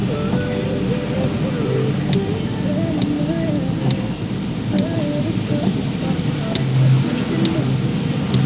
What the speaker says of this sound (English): So here it's a little bit rainy.